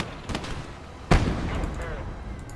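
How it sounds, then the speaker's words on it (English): A single sharp, loud anti-tank rifle shot bursts out in a war video game, standing clear of a busy backdrop of fainter distant gunfire and battle noise. "That's an anti-tank rifle."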